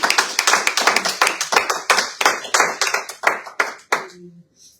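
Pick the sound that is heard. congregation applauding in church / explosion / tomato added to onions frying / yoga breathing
congregation applauding in church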